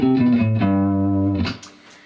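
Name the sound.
guitar playing the Mixolydian mode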